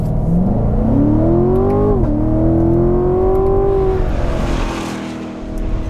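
A 2017 Chevrolet Corvette Grand Sport V8 accelerating hard, its loud engine note climbing steadily in pitch, dropping briefly at a gear change, then rising again before easing off as the car moves away.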